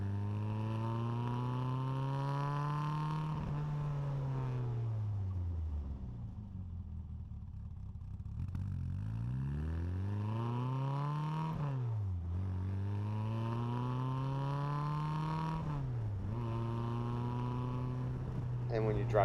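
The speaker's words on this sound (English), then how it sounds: "Just listen to that nice exhaust note." A modified 1275 engine in an Austin-Healey Bugeye Sprite revs through its exhaust. The revs climb and fall several times in clear, close sweeps over a steady growling idle.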